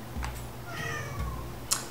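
A cat in a Breath of the Wild game meows a couple of times, short and clear, against a background of game sound.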